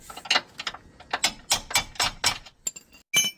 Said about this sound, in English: We're gonna pull out this front bolt.